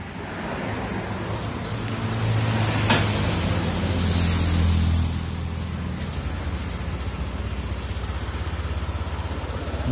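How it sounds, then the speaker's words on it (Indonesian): A Honda Vario 150 LED motorcycle engine idles while still cold, a low, steady rumble with a slightly busier stretch early on, heard alone without voices. "Ini mesin sudah nyala, ini kita lihat."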